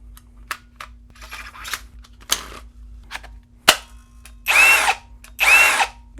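VEVOR 20V cordless collated drywall screw gun, close up: several sharp clicks and taps, then two short bursts of high motor whine, each about half a second, with quiet between.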